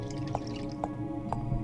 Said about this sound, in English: The water sound makes me really uncomfortable